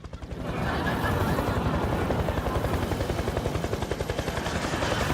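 A news helicopter hovers live over a scene, its rotor making a loud, steady chopping thump close overhead. The beat runs rapid and unbroken throughout, with no voices.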